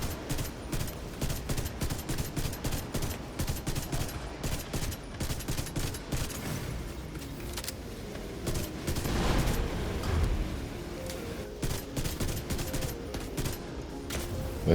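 Sustained automatic gunfire in The Division 2 raid fight at the Iron Horse Forge, dense rapid bursts of shots fired at a boss weak point, loud and continuous with layered weapon fire and game effects.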